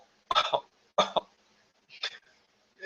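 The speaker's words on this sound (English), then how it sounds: "Sorry, I had to cough." A person coughs several times in quick bursts, fairly close and loud, with short pauses between the coughs, during a live review of Entenmann's Ultimate Black and White Cookies.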